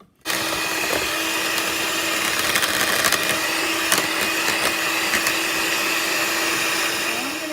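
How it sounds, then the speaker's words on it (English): A blender runs continuously, whipping eggs into dense almond flour batter for a keto blueberry cobbler, giving a loud, steady motor whir that starts abruptly and holds without pause, with no talking. "You want to make sure you use a blender so that the eggs are really blended in nicely and fluffy."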